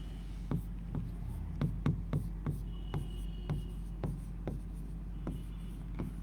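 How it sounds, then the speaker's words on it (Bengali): Chalk or marker tapping and scratching across a classroom board during a lecture, a run of sharp, evenly spaced strokes against quiet room hiss, no voices. "দাঁড়াও তো এটা একটু আবার লিখি"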